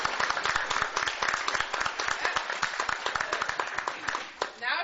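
Room full of people at a school board meeting clapping together, a dense, continuous patter of hands heard close and steady, with a brief dip just before the end.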